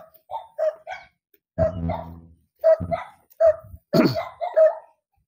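Several dogs bark in repeated sharp bursts, nearby and loud, with short pauses between volleys, in a rural Philippine province.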